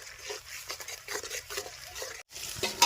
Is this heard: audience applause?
no